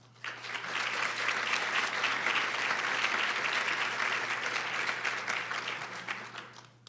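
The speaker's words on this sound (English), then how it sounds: "give them one more round of applause" Audience applause follows a keynote address at the 2015 Long Island Athena event, breaking out almost at once into full, steady clapping that holds for several seconds before tapering off near the end.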